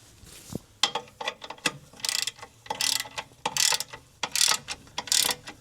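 A ratchet clicks in repeated bursts as a bolt on a green truck is tightened to low torque, short runs of close, crisp clicks separated by brief pauses.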